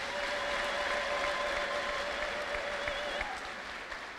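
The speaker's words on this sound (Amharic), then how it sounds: "ጭብጨባ" Steady applause from a congregation at a church service, with a lingering high tone running over the dense, even clapping for several seconds before it eases slightly near the end.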